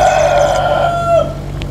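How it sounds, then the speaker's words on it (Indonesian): A rooster crows once, loud and close, in a single long drawn-out call that fades near the end, with no one talking over it. "Suara ayam noh."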